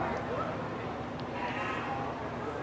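Sheep bleat at a county fair sheep show, faint and intermittent beneath steady crowd murmur and a voice over a public address system in a busy indoor barn.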